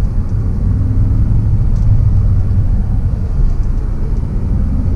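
An Audi R8 with an R-tronic transmission in first gear gives off a steady, loud, low engine rumble from inside the car, with no clear surge or jolt.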